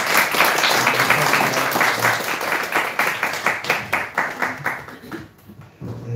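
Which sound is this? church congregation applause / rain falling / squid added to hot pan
church congregation applause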